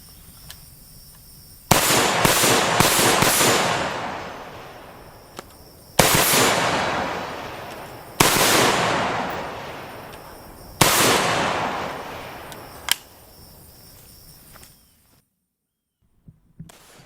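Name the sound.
CZ 805 Bren short-barreled rifle firing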